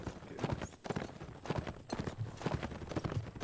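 Galloping cavalry hooves clip-clop rapidly in a multiplayer line-battle video game, a busy, irregular rhythm of many horses moving together at moderate loudness with no talk.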